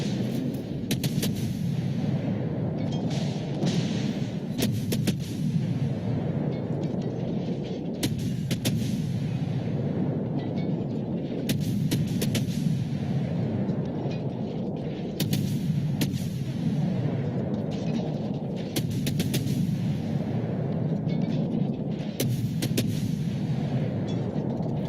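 Naval guns boom in regular salvos in a warship video game as a Fletcher-class destroyer fires on the battleship Yamato, sharp repeated blasts with short crackling tails over a low engine rumble.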